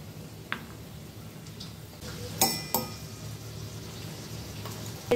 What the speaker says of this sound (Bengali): সব সবজিগুলো যতক্ষণ ভাজা হচ্ছে